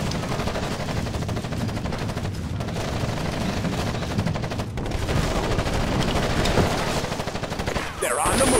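Sustained automatic gunfire and rifle shots from a firefight in Ghost Recon Advanced Warfighter 2, dense and loud throughout, with shouted squad callouts mixed into the battle.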